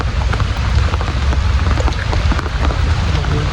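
Steady heavy rain drums on surfaces and an umbrella during a fishing trip, a dense continuous patter close by with no pause.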